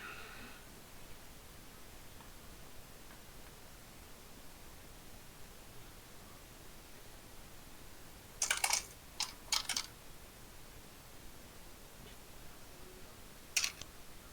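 Dice clatter in a few short bursts across a table during a tabletop role-playing game session, brief rattles amid otherwise quiet room hiss, with a final lone tumble near the end.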